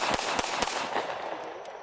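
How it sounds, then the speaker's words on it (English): A CZ P-07 pistol fires several rapid shots in quick succession at an outdoor range, sharp cracks fading into echo. "I have no qualms about taking some pretty rapid shots with this pistol"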